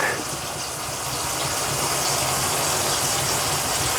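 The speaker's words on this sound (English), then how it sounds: "Running water going down the drain" Tap water gushes steadily into a kitchen sink and drains away through newly replaced PVC pipes, a close, continuous rushing wash with no voices.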